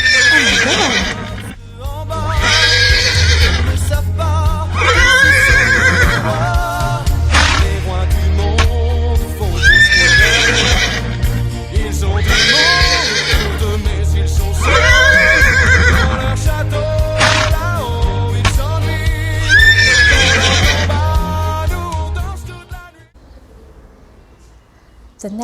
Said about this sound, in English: horse, horse, horse. Say it with me, horse.